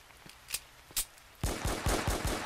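Gunfire in a Roblox war game: a few sparse, faint shots at first, then a louder rapid burst of closely spaced automatic fire.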